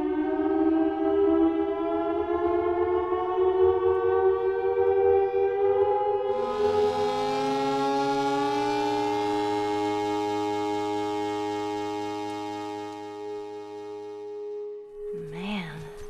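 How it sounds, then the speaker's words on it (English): Military sirens and alarms from The Last of Us video game: a loud sustained wailing siren tone that holds steady, then blooms into a denser layered alarm with echoing overtones, ending in a brief sharp electronic burst. "Military still has technology. There's sirens and alarms."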